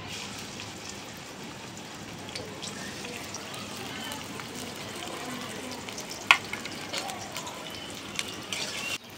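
Chopped onion frying in hot soybean oil makes a soft, steady crackling sizzle with scattered sharp pops and a few stirring scrapes, and a voice speaks quietly over the cooking.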